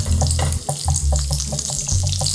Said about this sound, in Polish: Szybkie smażenie.